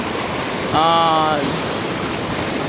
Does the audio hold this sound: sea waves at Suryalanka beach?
yes